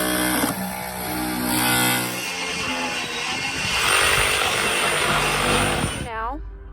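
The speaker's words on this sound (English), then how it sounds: "So we basically just pull out a beam, cut behind it with a sawzall, and it's a pretty quick process" A reciprocating saw cuts behind a beam in a barn wall during demolition, giving a loud, steady, rough motor roar that rises and falls in pitch, with a voice heard under the noise.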